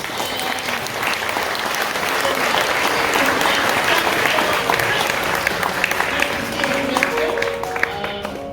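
An audience at a classical music soirée applauds seven performers, sustained close, dense clapping that swells slightly midway and continues evenly, with faint voices underneath.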